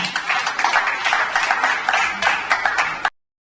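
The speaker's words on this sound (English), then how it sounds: "A round of applause, please, one more time" Audience applause in a hall at the Nigerian Internet Governance Forum, a steady, fairly close patter of many hands that runs for about three seconds before cutting off abruptly.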